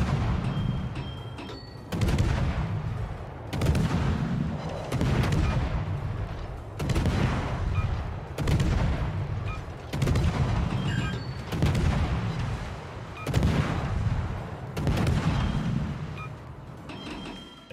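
Naval guns firing in World of Warships from a Tier IX European destroyer, HNLMS Friesland: heavy booming salvos repeat roughly every one and a half to two seconds, each a loud low thump with a rumbling tail, no talk.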